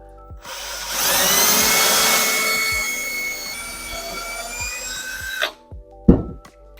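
A power drill whines steadily as it bores through a wooden skateboard deck for several seconds, then winds down, followed by a few short bursts and clicks.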